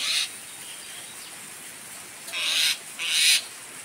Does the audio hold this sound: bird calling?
yes